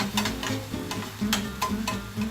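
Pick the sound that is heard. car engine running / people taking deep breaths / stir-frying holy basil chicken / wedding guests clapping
stir-frying holy basil chicken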